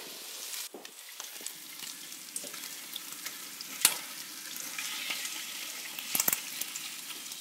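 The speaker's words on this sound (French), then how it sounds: "Et on entend, ça grésille," Pieces of free-range chicken laid skin-side down in hot oil sizzle and crackle steadily in a pan, with occasional sharper pops and light stirring scrapes, heard up close with no talking.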